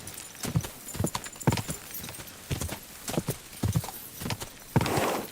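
Horse hooves clop in irregular bursts through the woods in the medieval video game Kingdom Come Deliverance II, close and distinct, with a short whinny near the end.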